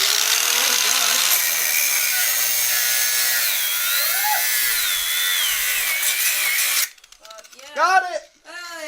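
Power tool grinding through a stuck bolt during an engine swap on a Nissan S14.5, a loud sustained whine with shifting pitch that cuts out abruptly near the end, followed by excited shouting.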